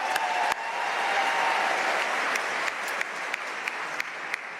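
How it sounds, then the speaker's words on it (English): Sustained applause from a graduation ceremony crowd at Duke's Fuqua business school, given for the mothers in the audience; a thick, even wash of many clapping hands with a few sharper claps standing out. "Big round of applause for the moms."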